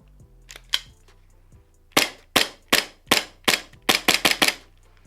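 A stock M17 airsoft pistol fed from a P320 magazine fires about ten sharp, snappy shots, a few slow ones then a quicker cluster, close and loud after some faint handling clicks.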